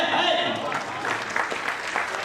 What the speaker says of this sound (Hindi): कविता के लिए तालियां बजा आती है क्या?